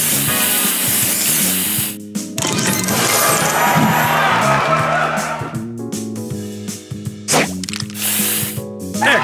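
Game sound effects from the mobile puzzle game Match Masters play loudly and continuously, layering a sprayed hiss from a spray booster over chiming musical tones and bursts, with brief drops to near-silence between effects.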